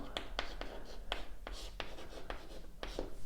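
Chalk or marker strokes on a classroom board, a quick series of short scratchy taps and squeaks at a steady writing pace, close and fairly quiet, with no talking.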